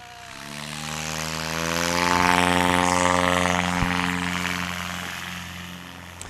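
Experimental bush plane taking off at a STOL competition: propeller engine roaring up to full power with a steady harmonic drone, swelling louder as it passes close, then easing slightly as it climbs away.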